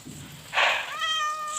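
A cat meows once in the Minecraft video game, a short synthetic mew that rises then holds a steady tone and fades, alone and close with no talking.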